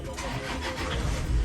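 Toyota Innova fitted with a smart alarm system, its engine cranking and catching after a push-button start, a short mid-pitched turnover close by that settles into a low rumble.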